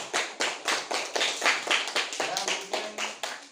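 A group of people claps hands together in a classroom, roughly a dozen separate bursts in an uneven rhythm, close and fairly loud, with no talking.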